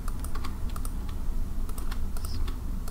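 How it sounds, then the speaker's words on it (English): A computer keyboard is tapped close up, with quick irregular clicks from keypresses including the spacebar, over a steady background hum. "hit spacebar"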